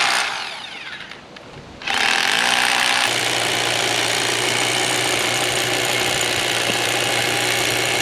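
An engine runs while powering a Bulldog machine. After a quieter opening it surges up and settles into a loud, steady drone close by, with no talking.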